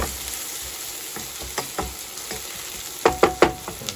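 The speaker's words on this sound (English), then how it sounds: "Let's fry the garlic first and then you fry the onions" Garlic and onions frying in a pan give a steady low sizzle, broken by scattered soft clicks and a few sharper stirring scrapes near the end, with no talking.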